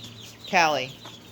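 A hen gives a single short cluck beside a brooder of baby chicks, close and clear against a quiet background hum.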